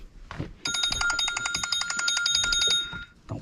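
A phone rings with a rapid electronic trilling bell in one sustained burst of about two seconds, moderately loud outdoors with faint background noise and no talking.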